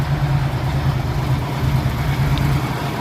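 A 1979 Ford F250 4x4 truck engine idles steadily with a low, even rumble that holds close and continuous throughout, with no voices over it.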